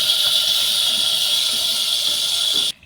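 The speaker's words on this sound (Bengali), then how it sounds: "আগে থেকে রেডি করা মশলাটা দিয়ে দিই। সামান্য পরিমাণ তেল দিয়ে দেবো।" Ready-made spice paste hitting hot oil in a pan for a fish curry, a loud, steady close-up hiss that holds evenly and then cuts off abruptly near the end.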